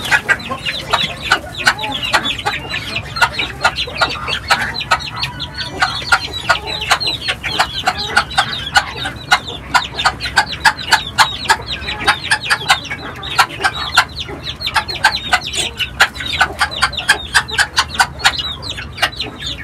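A flock of chickens and chicks clucks and cheeps nonstop while being fed. The close, busy chorus is loud and dense throughout, with no talking.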